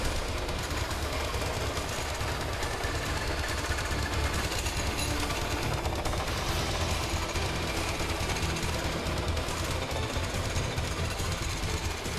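At a charcoal processing factory, a machine grinds and polishes charcoal boards with a loud, dense, continuous rattling roar, steady throughout and without voices.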